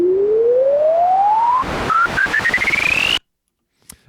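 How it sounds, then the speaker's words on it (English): A Native Instruments Massive synth plays a filter sweep: a bright tone glides steadily upward, then breaks into fast rhythmic pulses and stops abruptly, followed by a brief faint blip. "One of them is like this filter sweep"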